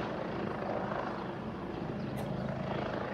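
A loud, steady rotor drone from a Eurocopter EC135 T2+ police helicopter fills the whole stretch, close and continuous with no pauses, as if hovering overhead.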